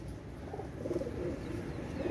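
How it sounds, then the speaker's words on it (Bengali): Oman Teddy pigeons give soft, low cooing in short repeated pulses against a steady background hum, near and fairly quiet. "অনেক সুন্দর কবুতর ভাই, ওমান টেডি কবুতর।"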